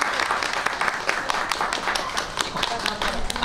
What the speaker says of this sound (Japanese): 一回だけちょっと拍手もらっていいですか。